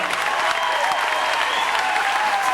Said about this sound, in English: You never got an applause like that